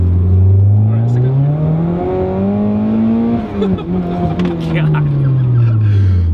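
A 2.5-liter Mazda Miata fitted with an EFR turbo and making about 400 wheel horsepower pulls hard in second gear, its engine note climbing steadily, loud and close from inside the cabin, while a voice briefly exclaims.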